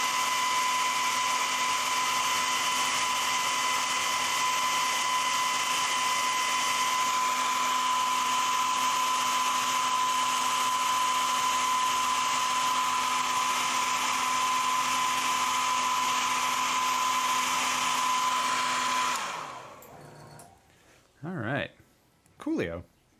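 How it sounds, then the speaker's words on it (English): A hairdryer blows steadily on a miniature to flash-dry its paint, a loud continuous whine with a fixed tone that runs for about nineteen seconds, then cuts off, leaving brief bursts of talk. "I'm going to pull a ye olde hairdryer"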